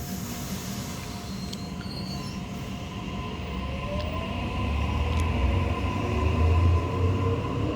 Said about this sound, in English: A59 now departing platform number 2